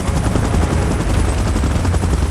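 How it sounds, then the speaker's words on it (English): A helicopter in the PUBG Mobile battle royale game sounds close and loud, with a continuous heavy rotor thump and engine roar throughout. "Chopper in position."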